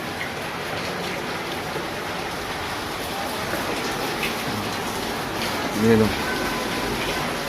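Steady monsoon rain falls continuously in an outdoor setting on the third straight day of downpour, a dense even hiss that holds throughout, with someone speaking briefly over it and a short louder burst near the end.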